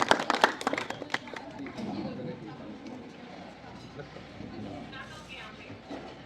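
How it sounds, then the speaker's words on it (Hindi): At a village gathering in Singhpura, an audience welcoming a guest to the stage gives a brief burst of sharp clapping lasting about a second. It gives way to softer crowd chatter and murmuring in the background. "एक बार जोरदार तालियों से हार्दिक स्वागत है"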